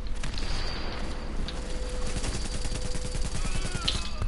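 Automatic gunfire in The Division video game rattles in rapid, steady bursts amid layered battlefield noise. A few sharp, brighter cracks stand out over the din.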